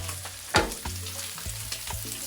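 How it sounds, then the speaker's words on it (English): Butter frying in a hot pan while breakfast is made, with a steady close sizzle, a sharp burst as it hits the pan and light scraping or stirring clicks throughout, no voices. "So I'll add some amount of butter."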